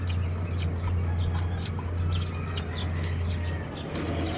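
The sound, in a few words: bird calling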